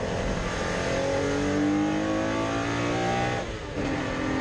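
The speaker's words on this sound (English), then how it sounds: "He starts to push his Porsche to the brink" A Porsche 964 race car at Brands Hatch circuit in the rain roars loudly and continuously under hard acceleration, its engine note climbing steadily and dipping briefly before surging again.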